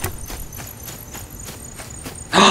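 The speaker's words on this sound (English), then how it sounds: "A horse! I'm gonna brutalize it." A horse walks in the survival video game Rust, its hooves giving a regular clip-clop of about eight evenly spaced steps, close and clear, with a louder burst of noise cutting in at the end.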